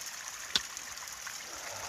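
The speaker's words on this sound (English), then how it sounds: "filtering some water" Water runs from a piped spring on the Appalachian Trail into a filter bag, a soft, steady trickle with one brief splash, heard close and quiet with no voices.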